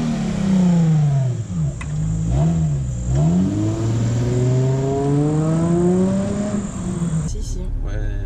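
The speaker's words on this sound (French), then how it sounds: "les deux grosses sorties d'échappement chantonnent vraiment bien" Infiniti FX35 engine revving through its twin large exhausts, a loud sustained drone that rises and falls in pitch across several revs, close by, with people talking over it.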